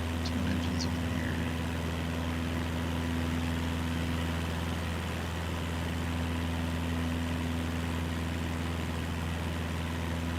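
Twin aircraft engines in Microsoft Flight Simulator 2024 drone steadily in a continuous, even hum with a low propeller buzz, holding constant throughout with no speech.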